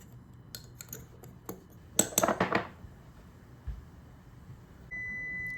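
Dry ingredients of sweetener, cocoa, baking powder and salt stirred briskly in a bowl for a chocolate coconut cake, a short burst of scraping and clinking utensil-on-bowl strokes among a few scattered taps, fairly close and with no voices.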